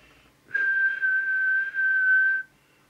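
A person whistles one steady, high, clean tone into the microphone of a Maxcom 4E UK CB 27/81 mobile CB radio. The tone is held for about two seconds, loud and alone, with a brief dip partway through.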